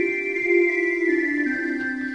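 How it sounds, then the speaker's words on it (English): Organ 2 1/3-foot flute stop played as a solo voice, a sustained bright tone with a few held pitches and note changes, steady and clear with no talking. "we can use the 2 1/3 as a solo stop"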